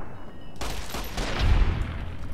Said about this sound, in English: Holy crap, this pistol's powerful.